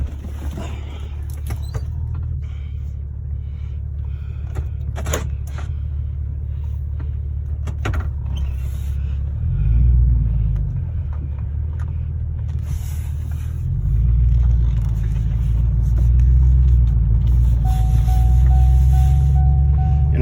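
Inside a 2006 Chevy pickup with a Vortec engine, a steady low engine rumble and road drone fill the cab, swelling in two stretches of acceleration, with occasional creaks and clicks from the cabin.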